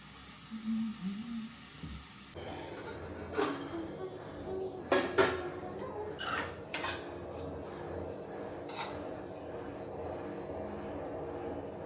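Spices for tempering hit hot oil in a home kitchen pan, setting off a steady hiss that runs on, broken by sharp clinks of utensils against the cookware.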